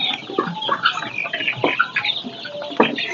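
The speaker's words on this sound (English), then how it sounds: "The chicken." A flock of chickens on a poultry farm clucks steadily, overlapping calls and squawks filling the space at a moderate, close level with no talking.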